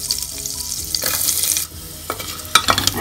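Chopped garlic frying with whole black pepper and spices in a pan for homemade tomato soup, a steady close sizzle with stirring scrapes and a few sharp clinks toward the end.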